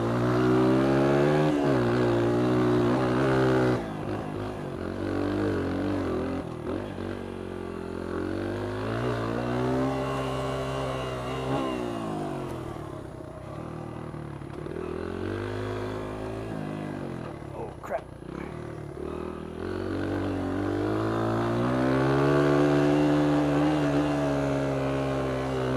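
A Honda XR100 dirt bike on a tight woods track, its engine revving up and easing off in long rising and falling swells through corners, steady and close throughout, with a voice talking over it.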